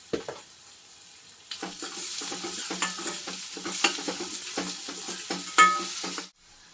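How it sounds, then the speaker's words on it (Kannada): Onions stirred in a pan with salt and turmeric, a soft sizzle under a run of rhythmic scraping strokes of a spoon against the pan, starting after a quiet opening and cutting off abruptly near the end. "ಉಪ್ಪು, ಅರಿಶಿನ ಇವಾಗ ಹಾಕೊಂಡ್ರೆ ಈರುಳ್ಳಿ ಜೊತೆ ಚೆನ್ನಾಗಿ ಬೇಯುತ್ತೆ"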